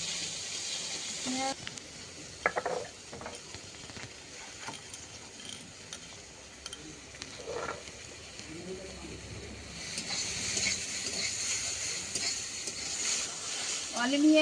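Stirring and frying in a pan in a home kitchen, with soft scraping and a steady sizzle that grows louder toward the end, while occasional voices and background noise come and go.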